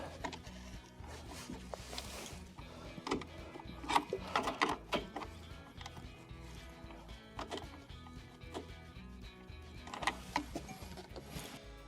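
Small fasteners being tightened on a refrigerator condenser fan motor during a freezer repair, a series of light metallic clicks and ratcheting ticks close by, irregular and moderately faint over low background noise.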